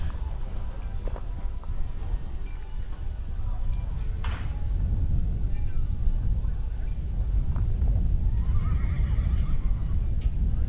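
A horse at a rodeo team roping event snorts and whinnies amid hoof thuds and arena noise, with a crowd and an announcer's voice underneath.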